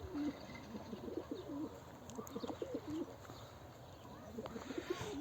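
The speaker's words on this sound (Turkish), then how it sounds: "Şöyle kümesimizin içerisindeki diğer kuşları da gösterelim." Pigeons cooing inside a loft, several soft overlapping coos repeating throughout at moderate distance, with faint chirps and light background noise.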